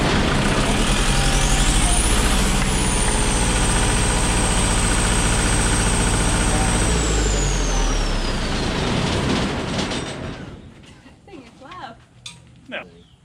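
An old diesel generator engine runs loud and close with a heavy clattering drone and a rising then falling whine, then winds down and goes quiet, leaving scattered knocks and clanks.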